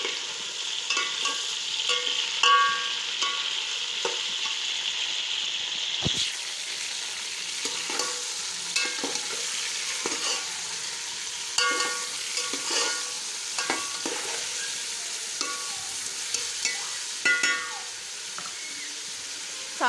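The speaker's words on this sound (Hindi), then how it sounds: "अब इसमें गोश्त ऐड करेंगे। इसको अच्छे से मिक्स कर लेंगे।" Meat and onions sauté in a pot and are stirred well. A continuous sizzle runs throughout, broken by frequent scraping and clattering stirs from a spoon against the pot.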